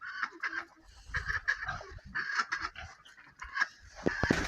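Farm ducks feeding in a village yard, close busy quacks and honks with wet dabbling and pecking, irregular and overlapping, with a few soft human sounds in the background.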